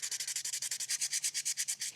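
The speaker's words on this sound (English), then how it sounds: "let's just try the sanding block" The coarse side of a sanding block rubs paint off a small toy figure in fast, even back-and-forth strokes, about ten per second, a close, steady hiss with no talking.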